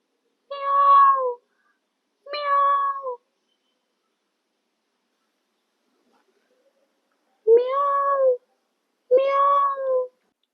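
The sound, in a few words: person imitating a cat's meow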